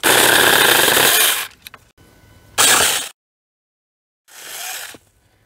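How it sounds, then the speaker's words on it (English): A small chainsaw roars through wood in two close bursts, drops out briefly, then revs once more more quietly before stopping. "Definitely awesome for a pruning type chainsaw."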